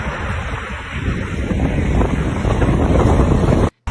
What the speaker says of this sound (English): it starts getting really windy there at the end. You can hear the winds picking up on him